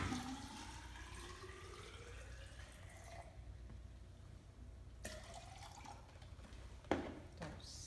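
Water is poured into a bucket for mixing alginate to cast a fossil replica, giving a steady splashing, gurgling fill with a few rising tonal sweeps and brief louder splashes, and no talk.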